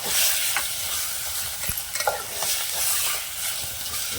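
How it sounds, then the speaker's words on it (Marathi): Chicken stirred into masala frying over a wood-fired stove in a rustic village kitchen, with a steady close sizzle and occasional scraping clicks of a spoon against the pan. "जे चिकन होतं ना ते यामध्ये घालायचं"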